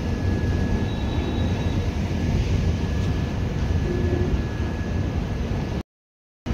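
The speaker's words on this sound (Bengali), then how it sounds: "পাশের লাইন দিয়ে মালগাড়ি যাচ্ছে, আর আমাদের এই ট্রেন দাঁড়িয়ে রয়েছে" A goods train rolls past on the adjacent line at night beside a stationary passenger train, a steady loud rumble of wagons filling the whole stretch before cutting off abruptly near the end.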